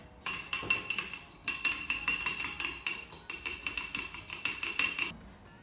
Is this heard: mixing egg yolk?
yes